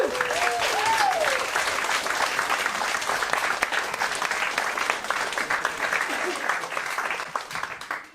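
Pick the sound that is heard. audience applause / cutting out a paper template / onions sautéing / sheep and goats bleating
audience applause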